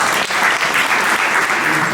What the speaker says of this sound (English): Give a round of applause, please, for Randolph Victor